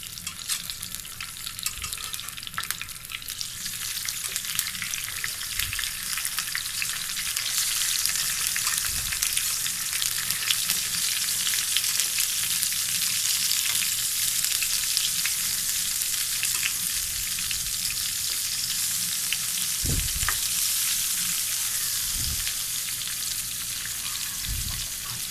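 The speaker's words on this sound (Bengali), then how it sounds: "তেল গরম হওয়ার পরে এখন এক এক করে বেগুনের চাকগুলা এতে দিয়ে দেব।" Eggplant slices fry in hot oil in a wok, a loud steady crackling sizzle that swells after the first few seconds, with occasional dull knocks as pieces are added or moved, no voices.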